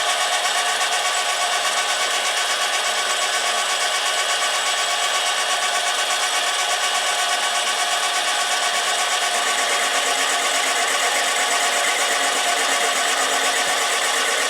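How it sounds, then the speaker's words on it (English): A soft steel rod is smoothed on a mini lathe, giving a steady, loud, hissing grinding rasp that runs unbroken from start to finish with no voices. "The rod has been cut, but it's not smooth. I'm smoothing it out before I make the center bore to start drilling it out"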